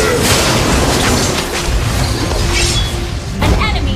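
A turret being destroyed in Mobile Legends, a loud crashing boom with shattering debris amid busy game effects and an announcer voice.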